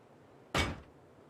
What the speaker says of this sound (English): Going in through our front door, we have a shotgun trap.